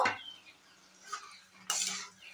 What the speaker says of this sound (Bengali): ফুলকপি ভাজা দেওয়ার পর খুব ভালো করে কষিয়ে নেব।